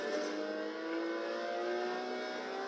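A Maserati MC12's V12 engine in Forza Horizon 2 holds a steady, loud, high-pitched drone whose pitch climbs slightly as it revs, with no voices over it.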